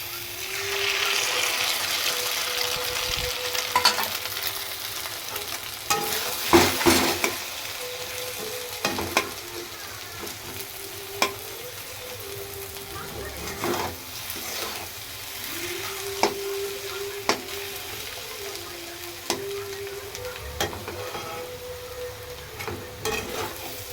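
Two eggs fry in a pan of cooked spiced masala under a steady sizzle, with intermittent scraping and stirring from a spatula, close and continuous over about twenty-four seconds.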